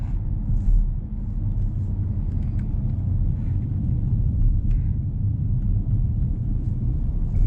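A Porsche Cayenne S E-Hybrid SUV rumbles along through corners, a low steady engine and road drone heard from inside, moderately loud and continuous with no talking.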